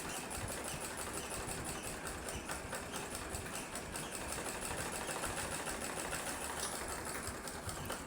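A sewing machine runs steadily as it stitches two pieces of fabric held together, giving a continuous fast mechanical whir with rapid needle clatter at even loudness throughout.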